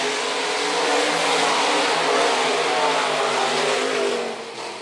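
IMCA stock cars roaring around a dirt track at Phillips County Raceway during the stock car feature, a loud, sustained engine drone that swells and holds, then eases slightly at the end.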